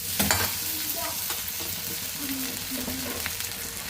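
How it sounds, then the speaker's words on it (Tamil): Tomato ketchup is stirred into butter garlic chicken in a pan, with a loud continuous sizzle and repeated scraping strokes heard up close. "அதில் டொமேட்டோ கெச்சப், இந்த போட்டு அதையும் சேர்த்து கிண்டுங்க"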